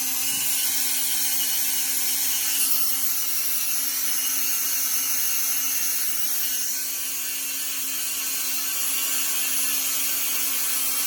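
Dremel rotary tool working polymer clay: a steady, high-pitched whine that holds constant and close throughout, with a slight dip in level partway and no voices.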